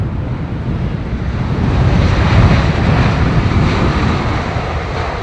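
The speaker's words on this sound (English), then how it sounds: "Sometimes these planes, they just don't want to land." Airliner arriving at London Heathrow in strong south-westerly wind, a steady loud broadband jet roar mixed with heavy wind buffeting on the microphone, swelling slightly mid-way and holding near and continuous with no talk.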